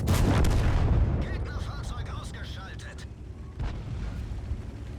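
A tank gun fires in World of Tanks, a heavy booming blast at the start that rolls off into a long rumbling tail, followed by fainter metallic game effects.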